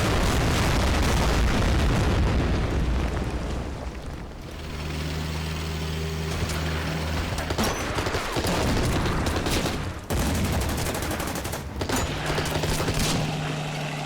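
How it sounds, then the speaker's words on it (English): Battleship guns and explosions roar in the Order of Battle: Pacific wargame, a dense, sustained barrage of booming blasts with brief lulls around four and ten seconds, with no voices. "let's see if we can use our battleships here to counterattack"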